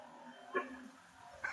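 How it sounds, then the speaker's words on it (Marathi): Newly arrived stray dogs bark outdoors in a town street, two short, faint barks about a second apart over a quiet background. "कुत्रे बघा कसे आले नवीनच कुत्रे"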